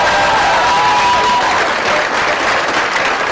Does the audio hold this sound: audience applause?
yes